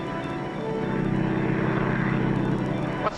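A propeller airplane drones loudly overhead, its steady buzzing engine rising slightly in intensity before cutting off abruptly at the end.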